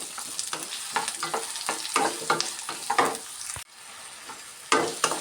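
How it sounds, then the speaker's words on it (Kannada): Chopped onions fry in oil in a pan, a close, lively sizzle broken by repeated scraping strokes of a stirring spoon, briefly dropping quieter before the stirring resumes. "2 ಈರುಳ್ಳಿನ ಈ ಥರ ಕಟ್ ಮಾಡಿ ಸೇರಿಸ್ತಾ ಇದ್ದೀನಿ. ಸ್ವಲ್ಪ ಫ್ರೈ ಮಾಡ್ಕೊಳ್ಳೋಣ."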